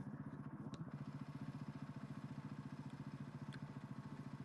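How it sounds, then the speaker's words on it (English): Husqvarna FR450 rally motorcycle engine at a desert rally prologue, a faint, steady, rhythmic low thumping idle held throughout with a couple of brief clicks, no voices. "He's on a Husqvarna FR450 rally bike."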